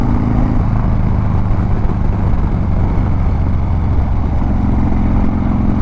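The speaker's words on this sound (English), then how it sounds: "Like, you can hear me on the letting off, it has that good Harley sound" Harley motorcycle engine running close by, a dense, steady low rumble with a lumpy, throbbing pulse from an aggressive cam, continuous throughout with no talking.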